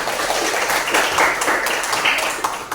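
Classroom applause for classmates who have just presented, a burst of many hands clapping together in a dense, steady patter that fills the short moment without talk.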